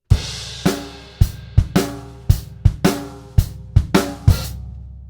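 A rock drum kit plays a chorus groove, with punchy bass drum and snare hits, crashes and a choked open hi-hat cutting off sharply, about a dozen loud strikes in a steady rhythm, no voices.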